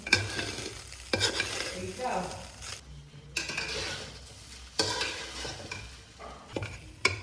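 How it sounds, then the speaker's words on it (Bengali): A spatula stirs fried vegetables and paneer into nearly cooked pulao rice in a pan, with scraping strokes, metal clinks and an underlying sizzle that pause briefly between bursts; nobody speaks. "এবার এই যে ভেজে রাখা সবজি আর পনির আছে, দিয়ে দেবো। একটু ভালো করে মিশিয়ে নেব।"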